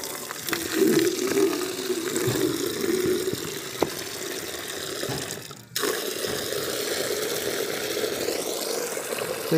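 Water is poured onto a seed tray sown with dahlia, cosmos, petunia and aster seeds, giving a steady splashing flow that runs with a brief break, with no talk.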